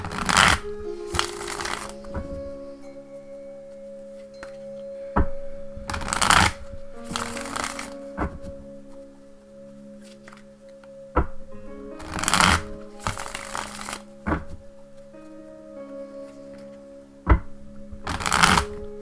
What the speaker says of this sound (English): let me just, one more shuffle